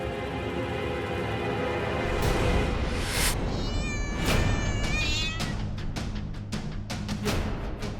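A cat meows several times in a drawn-out, caterwauling way, fairly close and clear, over a steady background hum, with sharper clicks and knocks toward the end.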